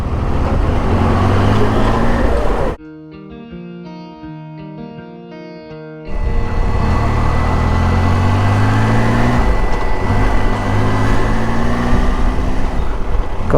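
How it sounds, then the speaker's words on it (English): A Triumph Tiger motorcycle engine drones steadily while riding through city traffic, with wind and road roar around it. The sound cuts out abruptly for a few seconds of tonal music, then the loud engine and wind noise return. "That's the sound of the engine."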